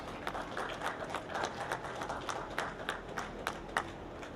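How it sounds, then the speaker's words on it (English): Applause from the crowd at a dairy show breaks out for two entrants, a thin, fairly distant patter of clapping that holds steady for a few seconds. "Let's give those two a round of applause."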